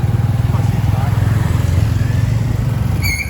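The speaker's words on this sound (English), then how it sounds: "Here we are in the tuk-tuk." A tuk-tuk's small motorcycle-type engine drones steadily and loudly at close range while riding through Siem Reap. A voice is heard faintly over the engine, with a brief high whistle near the end.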